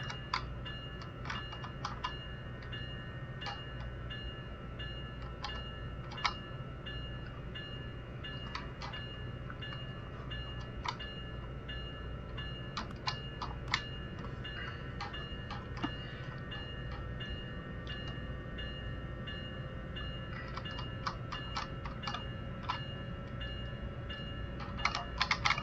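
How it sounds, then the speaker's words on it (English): A stuck wireless computer keyboard clicks in scattered, irregular taps, some in quick bursts. The clicks sit over the low, steady rumble of a train cab in a railway simulator and are heard close and fairly faint. "My keyboard's stuck."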